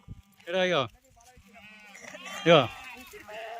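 Two sheep on a farm give loud, wavering bleats about two seconds apart, close by, with faint background murmur between them.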